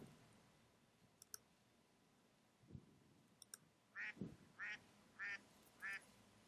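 Four loud, evenly spaced duck quacks, each a short nasal burst, with a few faint clicks and rustles before them in a quiet outdoor setting.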